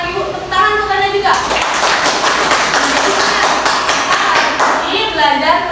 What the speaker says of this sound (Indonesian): Tepuk tangan untuk Anda juga